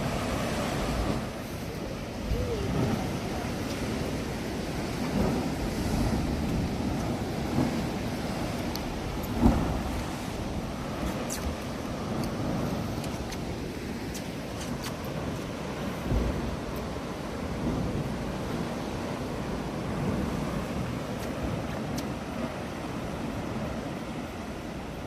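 Ocean waves surge and crash against the Pancake Rocks blowholes in a continuous wash, with wind buffeting the microphone and occasional louder thumps.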